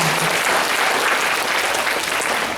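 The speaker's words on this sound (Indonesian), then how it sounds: "Tepuk tangan ya buat kita semua." Loud, dense applause from a crowd, steady clapping filling the whole moment without a break.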